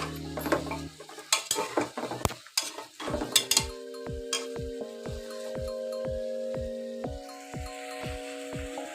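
Metal utensil scraping and clinking in a pot of chicken kacchi biryani, a few irregular knocks then a rapid regular clicking rhythm, with a faint sizzle underneath and no talk.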